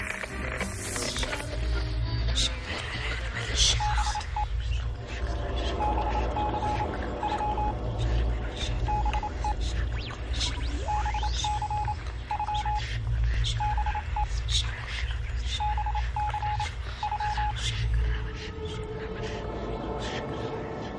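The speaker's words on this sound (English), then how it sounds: "the spirit of Thomas Edison tapped out a message using Morse code" Morse code message tapped out at a séance in London, heard as clipped, evenly pitched beeps in bursts of short and long tones over a steady buzzing hum and static, with faint speech-like murmur beneath.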